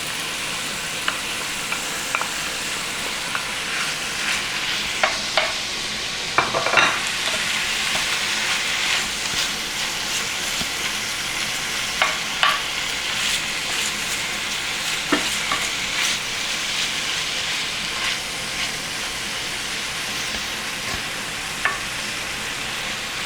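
Ground meat and mushrooms fry in a pan for a Bolognese sauce, giving a steady sizzle broken by scattered scrapes and taps as the meat is broken up with a utensil.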